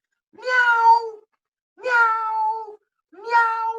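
A cat meows three times in a row, each call drawn out and clear with short silent pauses between, close and fairly loud with no talking.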